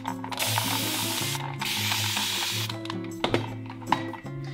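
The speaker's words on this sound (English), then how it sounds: "I'll spray this bioturbated bed to see what it looks like." Water from a spray bottle hisses in two sustained bursts onto a bioturbated shale bed at a rock outcrop, with clicking trigger and handling sounds between and after.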